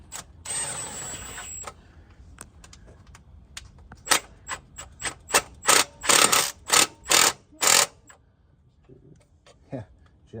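Ratchet clicking in short bursts as bolts are threaded into a FenFab performance oil pan on a Ford Explorer ST, a steady run of loud close ratcheting after a brief metallic rattle.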